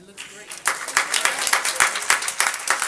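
Church congregation clapping together, a burst of applause starting softly then swelling into steady, fairly close rhythmic clapping for a few seconds.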